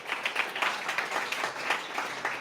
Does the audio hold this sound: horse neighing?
no